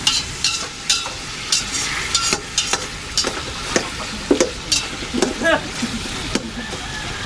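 Meat sautéing in a pan, a steady sizzle with repeated clinks and scrapes of a utensil stirring against the pan, close and lively, with people talking over it.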